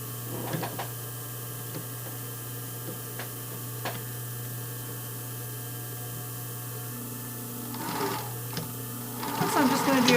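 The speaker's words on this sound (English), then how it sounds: "So I'm just going to do forward and backwards, just a couple little stitches there." A home sewing machine runs in short bursts, stitching forward and then backward to lock the end of a seam on a brief-style panty, with a steady motor hum and faint clicks close by and no talking.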